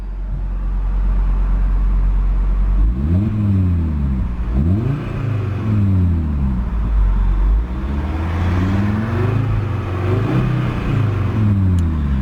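A 2022 Audi RS3 Sportback Carbon Black Edition rumbles at idle, then its exhaust barks through a series of sharp revs that climb and fall repeatedly toward a limiter, loud and close with no talking.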